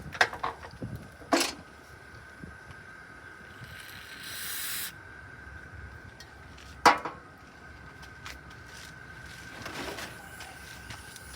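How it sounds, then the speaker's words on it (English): Carburetor cleaner sprayed into a 2020 Bolens walk-behind lawn mower carburetor: a short hissing spray in the middle, with sharp clicks and knocks from the parts before and after, close and fairly quiet. "I'm going to spray a little 2+2 this way and blow it out."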